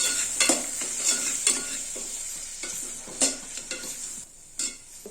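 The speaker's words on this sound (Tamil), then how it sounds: "தக்காளி கொஞ்சம் அந்த எண்ணெயிலே வேகட்டும்." Tomatoes sautéing in hot oil with chili powder and sambar powder, a steady close sizzle broken by repeated scraping stirs of a spoon in the pan.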